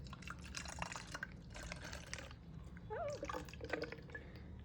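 Liquid trickles and drips into an empty plastic body splash bottle, a soft, close, uneven pouring sound with small splashes, quiet and continuous over a low background hum.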